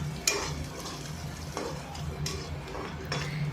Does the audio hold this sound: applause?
no